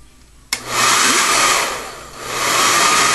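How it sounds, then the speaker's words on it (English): A handheld blow dryer switched on at its low heat setting: a click and sudden start, then a steady loud whooshing airflow that dips and swells as it is moved around wet hair. "I take my blow dryer and I put it onto the low."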